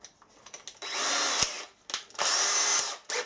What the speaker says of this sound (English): I'm going to use a cordless drill to drill the holes.